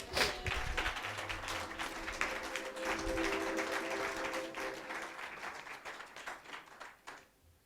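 A church congregation at a morning service applauds together, a dense, steady clapping that fills the room and fades out toward the end.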